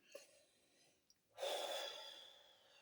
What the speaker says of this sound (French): Je fais de la respiration consciente.